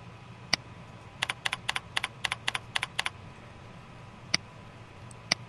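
Arrow keys pressed on a computer keyboard, a quick run of about a dozen crisp clicks in an uneven burst, then a few isolated taps spaced out afterward, close and clear over quiet room hiss.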